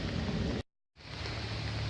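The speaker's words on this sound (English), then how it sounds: "The rain's been going for about 20 minutes now, I guess." Steady rain falling outdoors during a flooding downpour, a dense continuous hiss broken by a brief moment of total silence before it resumes.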